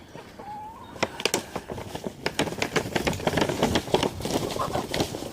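Backyard chickens cluck and squawk excitedly while pecking at a treat of spinach and apples, with a rapid run of close, overlapping clucks and no talking.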